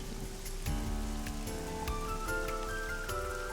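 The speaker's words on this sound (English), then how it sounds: "Parasol is getting pelted by the rain." Rain pelts a parasol in a park at night in the AI: The Somnium Files video game, a dense steady patter over shifting background music tones.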